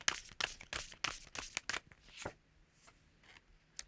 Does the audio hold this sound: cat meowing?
no